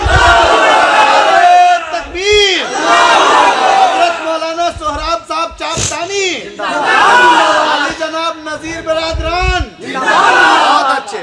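A large crowd at a religious talk roars a takbir slogan in loud, rhythmic unison, answering a leader's shouted call in repeated rounds, close and energetic.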